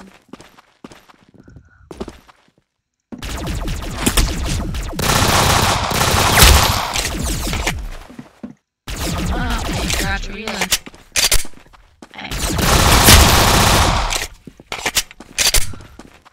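Gunfire in the Roblox shooter game Arsenal: loud, dense bursts of rapid automatic fire in long stretches, broken by short pauses and a few isolated shots, with some talk in the gaps.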